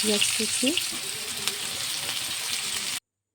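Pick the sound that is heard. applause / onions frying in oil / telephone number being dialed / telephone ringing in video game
onions frying in oil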